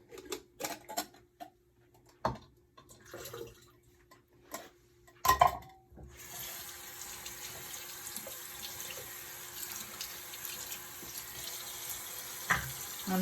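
Liquid film fixer drains out of a black-and-white film developing tank, starting after several scattered knocks and clicks and then running as a continuous close splashing pour that lasts to the end.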